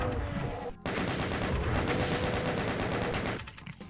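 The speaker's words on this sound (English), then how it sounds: "So we'll greet him with some chain gun fire." Sustained rapid automatic fire from the chaingun in DOOM, map 5 Reservoir, a dense continuous rattle of loud gunshots that runs nearly unbroken, with a brief gap early on, then tapers off at the end.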